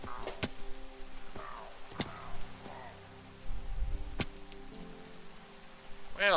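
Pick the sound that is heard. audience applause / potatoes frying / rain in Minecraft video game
rain in Minecraft video game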